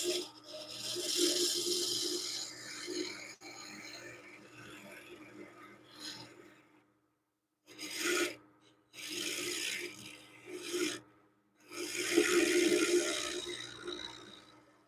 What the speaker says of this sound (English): Sounds like there's a little ripping going on the wood